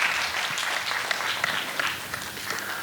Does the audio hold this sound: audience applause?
yes